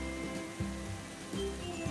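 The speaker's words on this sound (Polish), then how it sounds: "pada deszcz!" Rain falling steadily as a dense, even hiss over music and low tones in an animated children's story, with no voices during this moment.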